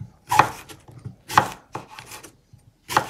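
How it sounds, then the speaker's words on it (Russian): A knife slicing an apple into wedges on a cutting board, three sharp separate chops with softer scraping and slicing sounds between them, close and clear with no talk. "Так, берем яблоко. Также вот такими дольками его режем."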